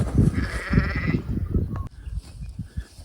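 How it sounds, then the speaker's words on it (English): Sheep bleat repeatedly in a paddock during strip grazing, a near, loud, wavering cry in the first second or so, then quieter scattered calls and rustling as the flock moves around fresh feed. "The sheep are certainly running around not knowing where to go with all this feed in front of them."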